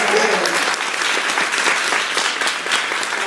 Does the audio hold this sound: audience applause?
yes